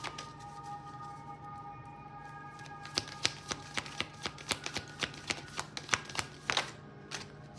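Tarot cards shuffled and drawn by hand, a steady series of soft slaps and riffles close up, faint background tones beneath and no speech.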